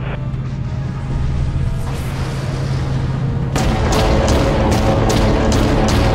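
Ship primary weapons firing in the Dreadnought space-battle game: a steady engine drone under deep booming shots that land in a quick run of repeated heavy blasts, loud and close.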